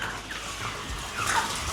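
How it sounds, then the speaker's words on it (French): Kiroleur breeding chickens fill a poultry room on a farm in Burkina Faso, a dense, continuous flock din of clucks and calls with no voices. "Nous sommes dans la salle où nous élevons les poulets de race Kiroleur."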